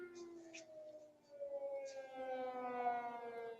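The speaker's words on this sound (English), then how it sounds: "and air raid sirens" An air raid siren wails in long rising and falling tones, heard from a distance and fairly faint, with no voices.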